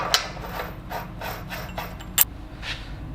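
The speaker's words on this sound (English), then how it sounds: "So I'm going to add the washer and the nut." Washer and nut fitted onto the camshaft of a 1969 Porsche 911T engine, a few soft metallic scrapes and a sharp small clink near the end, close and quiet.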